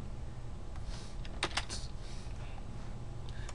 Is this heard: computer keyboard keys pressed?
yes